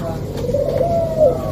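A breeding pair of pigeon-like birds cooing, a soft low coo rising out of a steady noisy background, fairly close.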